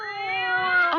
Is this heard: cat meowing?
yes